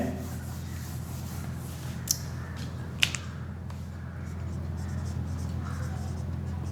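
Someone writes out an equation during a Class 12 physics lesson on the parallel plate capacitor: a few faint scratches and two sharp taps at close range, over a steady low room hum with no talking.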